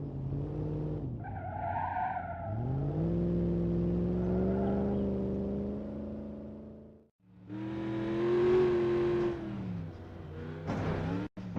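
The Burnside muscle car's V8 in BeamNG.drive revs up and holds at high rpm, drops briefly, then roars again with a harmonic, slightly raspy tone, ending in a sharp cut; no talking.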